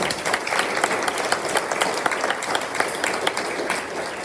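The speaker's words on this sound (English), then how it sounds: "can we just get a huge round of applause for our amazing speakers?" A large audience at a community event applauds its speakers, a full, continuous roar of clapping held at an even level throughout.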